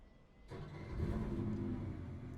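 A McLaren GT3 race car engine in the racing game Le Mans Ultimate cranks and catches after a short quiet lead-in, then settles into a loud, steady idle rumble that holds to the end.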